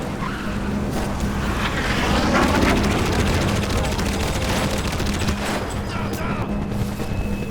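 Enemy gunfire in Crysis rattles as rapid overlapping bursts amid rumbling ambient noise and wind, with someone talking over the shooting.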